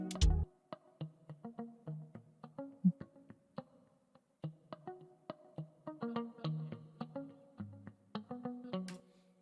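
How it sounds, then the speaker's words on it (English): A muted slap guitar patch from the Contact sampler plays a syncopated Afrobeat pattern of short, percussive plucked notes, dry and clipped, with bouncy rhythmic accents across the phrase. "The mute guitar sounds like this."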